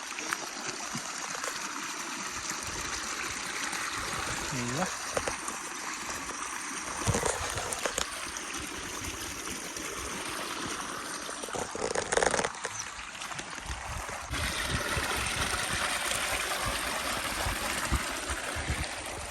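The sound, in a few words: waterfall flowing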